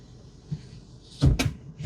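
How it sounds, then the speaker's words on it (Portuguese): The door of a Citroën C3 Aircross is shut: a solid thump with a rattle of plastic trim, then a brief clatter and a faint tail. "E também, tem uma coisa na porta, cara. Vou fechar aqui."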